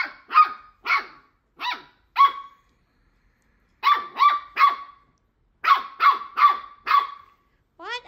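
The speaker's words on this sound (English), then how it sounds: "You're barking at Mala to play" A puppy barks in short, sharp bursts, close and loud, in clusters of three or four yips separated by brief pauses.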